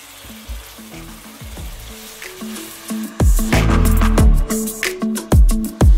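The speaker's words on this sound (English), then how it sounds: "Chicken has finished frying for a little bit" Chicken pieces frying in a pan for a spicy restaurant-style biryani, a steady close sizzle with crackling bursts that grow louder and busier partway through, with no talking.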